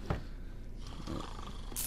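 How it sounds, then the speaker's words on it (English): Snoring in the stealth video game Thief, a low rasping breath that rises and fades across a couple of seconds, heard alone without talk. "I wonder who's snoring"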